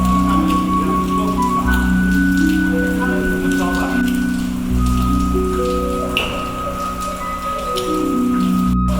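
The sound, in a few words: rain falling on an old temple building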